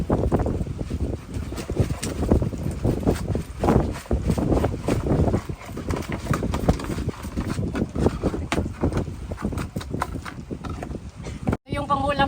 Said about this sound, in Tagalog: Pakinggan nyo po yung hangin.